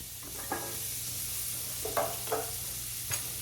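Poblano peppers and onions sautéing in oil in a pan over medium heat: a steady close sizzle throughout, with a few soft stirring clicks and scrapes of a utensil scattered over it, no voices.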